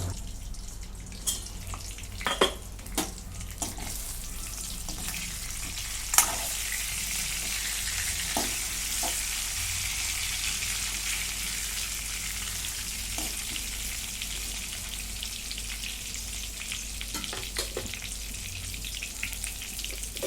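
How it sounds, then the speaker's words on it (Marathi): Eggplant roasting under a lid in a pan gives a steady soft sizzle and crackle, with sharp pops and clinks now and then. "याच्यावरती झाकण ठेवते दोन मिनटं वांगी भाजून घेते"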